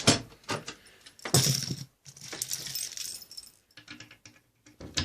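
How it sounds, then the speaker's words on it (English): Keys for the bottom door of a fruit machine jangling and clinking close up in bursts, with a pause and then lighter rattling metal handling. "Got the bottom door key, you turn that"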